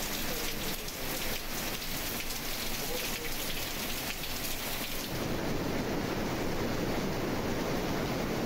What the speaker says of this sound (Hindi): लाहौर और गिरदोनवा में मूसलाधार बारिश।